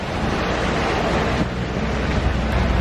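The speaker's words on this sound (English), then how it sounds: "Very, very windy." Loud, constant roaring wind buffeting the microphone at sea off Sardinia and Corsica in a storm, with the rush of sea water underneath, no voices.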